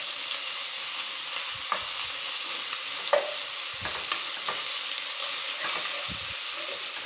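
Onions fry with ginger garlic paste in hot oil for chicken keema rice, a loud steady sizzle with occasional soft stirring scrapes and light knocks of a spoon.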